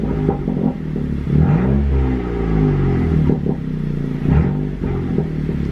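A 10th-generation Honda Civic Si with a catless downpipe idles at about 1,000 RPM with a rough, uneven rumble, punctuated by a few soft crackles and pops from the exhaust.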